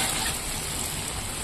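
Vegetables frying in a pan for khichuri give a steady, close sizzle with faint stirring, heard alone without speech.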